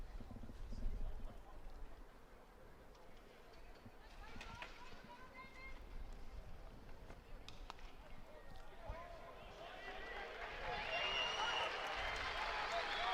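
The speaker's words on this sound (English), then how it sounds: "The crowd tell you before the umpires do, that one's over." Crowd at a Dublin senior hurling semi-final cheering a free scored over the bar, a broad rising roar that swells loudest toward the end, with some talk underneath.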